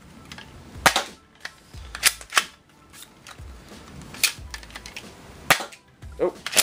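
A BoomCo Farshot blaster firing sticky darts at a target board from about eight or nine feet, sharp snapping shots and clicks in an irregular series of about eight, close and crisp, with handling noise between shots.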